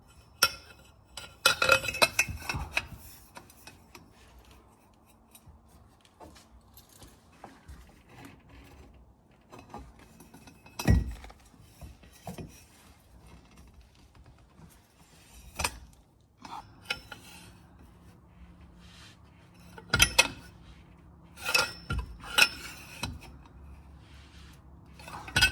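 An 18mm wrench turning a rusted sway bar link nut on a Ford F150 pickup, scattered close metallic clicks, clanks and ratcheting bursts with quiet gaps between them.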